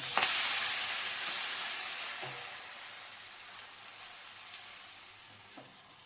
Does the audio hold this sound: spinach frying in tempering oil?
yes